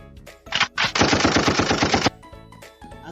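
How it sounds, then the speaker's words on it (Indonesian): A gunshot effect played from a soundcard gives a short shot, then a loud rapid burst of automatic gunfire lasting about a second, followed by quieter background sounds. "Dan kalian pengen gunshot."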